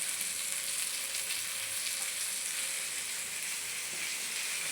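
Seafood fries in a pan in a home kitchen, giving a constant bright, hissing sizzle at moderate loudness that holds steady throughout, with no talking over it.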